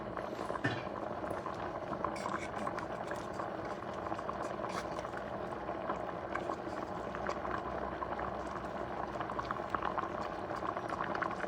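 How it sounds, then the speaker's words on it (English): Rice water boils steadily in a pot on high heat, a constant bubbling and hissing simmer with no pauses. "See how it's boiling, how nicely?"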